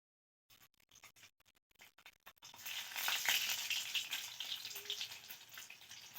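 Boiled egg pieces drop into well-heated oil and fry. A few faint scrapes and taps come first, then a steady, fairly loud sizzle rises and holds to the end, with no voices.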